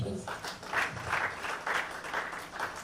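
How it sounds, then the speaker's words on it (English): A crowd at a farming initiative workshop applauds steadily, the clapping broad and continuous with a faint pulsing rhythm, heard from a moderate distance. "I think it deserves another round of applause."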